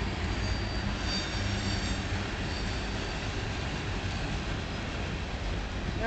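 A long grain freight train rumbles past steadily, a loud continuous roar of rolling wheels and rail noise with no pause, close by.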